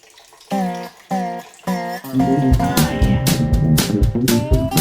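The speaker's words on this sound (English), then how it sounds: "Running water helps too." Tap water runs in short bursts while a boiled egg is peeled under it, then flows continuously with splashing and clattering, loud and close.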